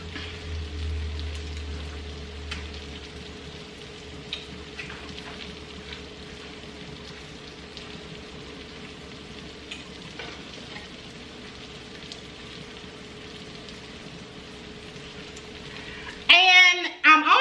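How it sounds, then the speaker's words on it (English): Fresh corn frying in oil in a pan over medium heat, giving a soft, steady sizzle throughout with faint scattered ticks, then a sudden louder clatter of stirring at the very end. "And now we're just going to let this first layer fry for a little bit."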